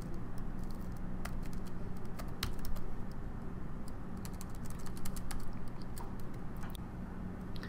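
Rapid typing on a computer keyboard while working in a code editor, a steady patter of soft key clicks with brief louder taps, close and continuous with a low background hum and no talking.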